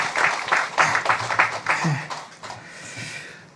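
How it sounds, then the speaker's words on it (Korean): Church congregation applauding the choir after a hymn, clapping that fades over a few seconds, with a voice speaking briefly partway through. "우리 다시 한번 성가대 우리 경의의 박수 한번 하겠습니다"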